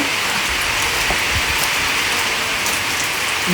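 Steady rain falls and patters on surfaces, a dense, loud, continuous hiss with scattered drops and no pauses.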